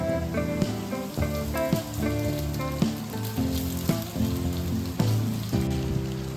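Rice, vegetables and paneer stir-fried together in a pan, a steady sizzling hiss with occasional stirring scrapes, sitting under loud, continuous music with no talking.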